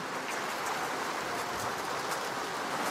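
Heavy rain falls steadily and strengthens, a dense, hissing wash of drops with scattered patters, constant and fairly loud with no talk.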